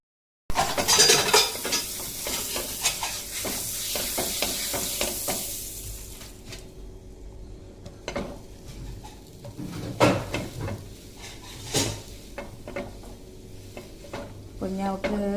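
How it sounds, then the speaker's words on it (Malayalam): Bread heating in a pan on a home stove, with a soft sizzle under clattering utensils, scraping and stirring noises, and pans being moved close by. "അപ്പൊ നമുക്ക് ബ്രെഡ് ചൂടാക്കി കൊടുക്കാം."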